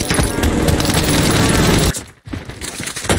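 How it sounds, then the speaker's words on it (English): Heavy, continuous automatic gunfire in Call of Duty Warzone, loud and close, cutting out briefly before more shots resume, with no voices over it. "I'm getting fired at"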